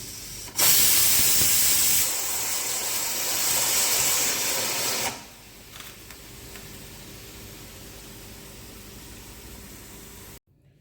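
A pressure cooker whistle releases a loud, sustained hiss of steam while cooking pork, holding steadily for several seconds, then cutting back to a faint background hum.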